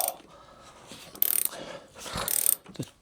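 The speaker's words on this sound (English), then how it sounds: "Now we've loosened the wheel axle nut" Ratchet wrench clicking in short bursts while loosening the rear wheel axle nut on a 2021 KTM 390 Adventure motorcycle, two sharp close ratcheting runs separated by quieter handling noise, no speech.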